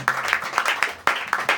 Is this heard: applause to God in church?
yes